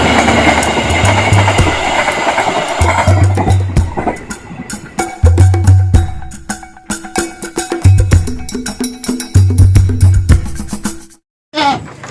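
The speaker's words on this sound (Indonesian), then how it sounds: "Oke, break, ada kereta guys." A train passes close by, loud wheels clacking in a rhythmic pattern with metallic rattles and a rumbling drone, before ending abruptly in near silence.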